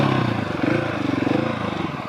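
A Husqvarna 701 / KTM 690 motorcycle attempting a burnout, its engine chugging with a throbbing, pulsing rhythm as the revs rise and fall, close and loud.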